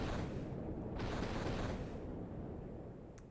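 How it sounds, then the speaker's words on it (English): Dense, continuous roar of explosions from airships and dwarven tanks attacking a giant in Final Fantasy IV, a steady rumbling wash with no distinct separate blasts, fading slightly toward the end. "still under attack by airships and dwarven tanks in the sea of explosions"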